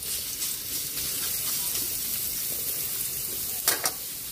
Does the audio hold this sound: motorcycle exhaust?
no